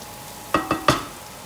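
Shallots are stirred in a hot pan, three short scraping, sizzling bursts close up and then a faint background hiss, with no talking.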